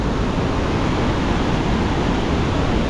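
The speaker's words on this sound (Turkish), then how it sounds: "Yağmurdan sonra coşan nehir." Roaring river swollen after rain near Machu Picchu, a loud, dense and unbroken rush of water close by with no voices.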